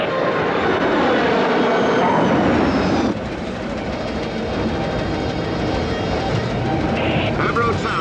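Avro Arrow jet fighter's engines roaring during a high-speed dive in a film, a loud continuous dense roar with a shifting tone that drops slightly partway through, with radio voices speaking over it.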